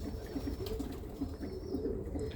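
Birmingham Roller pigeons coo softly in a steady repeating rhythm of low, rounded notes, faint and unbroken by talk.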